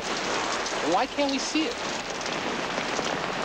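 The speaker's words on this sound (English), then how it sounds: "Raining, Dave." Steady, heavy rain hisses throughout, close and full, while a voice asks a short question partway through.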